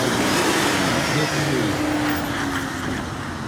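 An off-road vehicle on a trail creeping up to a tree, its engine revving loudly and steadily up close with a rough, continuous drone.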